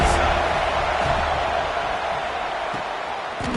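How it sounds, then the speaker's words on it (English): Stadium crowd noise from the College Football 26 video game on a big third down, a dense steady roar of cheering fans that stays loud and even throughout, with faint thuds underneath. "Big 3rd down as the crowd gets behind this defense."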